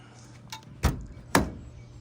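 A side door on a small boat opening, heard as two distinct hard thunks about half a second apart, close by and otherwise quiet.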